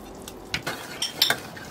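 Stirring syrup with a spoon in a pot after adding butter and lemon juice: a few scattered metallic clinks and scrapes against the pot, close and clear, with no talk.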